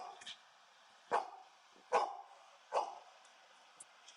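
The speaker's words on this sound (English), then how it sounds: "She probably hears my dog." Dog barking at a deer camp, several separate sharp barks spaced about a second apart at moderate distance, with a few faint yips in between and quiet background.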